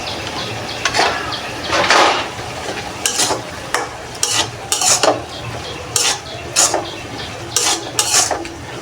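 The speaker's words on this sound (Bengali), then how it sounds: "এটা আমি এখন ভালোভাবে নেড়ে ছেড়ে নেব।" A spoon stirs cabbage and potatoes with dry red chili powder in a frying pan, scraping and tossing in about a dozen close, loud strokes of irregular rhythm over a soft sizzle.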